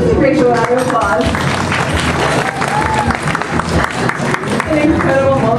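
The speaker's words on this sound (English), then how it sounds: "Let's give Rachel a round of applause." Loud, close audience applause at a Mercedes-Benz Fashion Week presentation, dense continuous clapping from a crowd with some voices mixed in.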